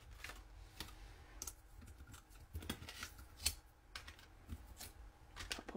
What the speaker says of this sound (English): cut out some of these accent pieces